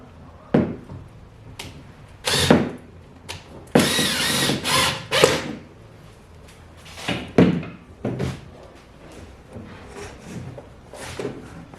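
A power drill drives the last screw into an overhead door, whirring in several short close bursts with brief pauses, ending in a few lighter spins and tool handling noises.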